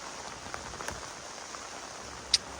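Rain falls on cut, harvested rice in a field, heard as a faint, even hiss with scattered light drops and one sharper tap near the end.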